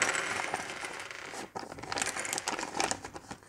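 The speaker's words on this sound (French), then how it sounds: "On va récupérer le sac d'encoche qu'on va ouvrir" Plastic arrow nocks being tipped out of their bag, giving close, continuous light clicking and rattling mixed with crinkling of the bag, with a brief pause partway through.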